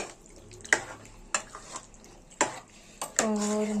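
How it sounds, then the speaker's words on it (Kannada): Chicken stirred into ground masala in a pot, a few sharp spoon scrapes and clinks against the metal at irregular intervals, ending in a steady sizzle, with faint background noise. "ಇದು ಸೇರಿಸ್ಬಿಟ್ಟು ಚೆನ್ನಾಗಿ ತಿರ್ಸ್ಕೊಳ್ಳಿ"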